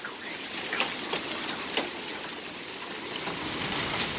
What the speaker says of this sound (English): I never thought I'd actually see hail this big in my life!